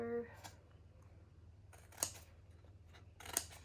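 Scissors cut through folded pattern paper in a few short angled snips, quiet and close, separated by pauses over a low steady hum.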